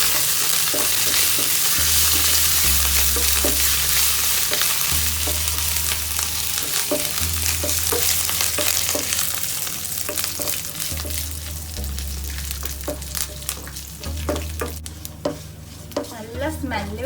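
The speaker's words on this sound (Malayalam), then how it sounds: "ഈ സമയത്ത് നമുക്ക് കുറച്ച് കറിവേപ്പില ഇട്ട് കൊടുക്കാം അതിലേക്ക്" Curry leaves go into a pan of frying coconut pieces and chicken for a pepper chicken roast, with a steady sizzle under repeated spoon stirring and scraping against the pan, alone and close.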